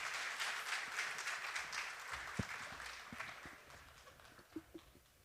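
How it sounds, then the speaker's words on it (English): A conference audience gives a round of applause after the welcoming remarks. The clapping is faint and distant, thins out toward the end, and leaves a few scattered claps. "Please give her a round of applause."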